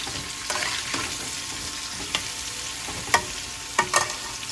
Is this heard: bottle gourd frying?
yes